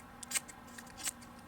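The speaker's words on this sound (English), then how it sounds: "How well do they cut?" Small folding scissors from a sewing kit make two crisp snips close by, with quiet handling between them.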